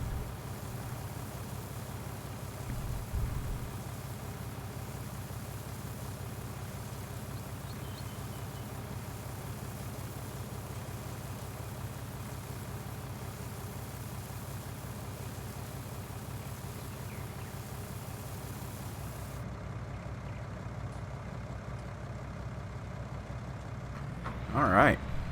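A tractor engine in the Farming Simulator 19 video game runs as a steady, continuous low drone throughout, unchanging in level, with a voice talking over it near the end.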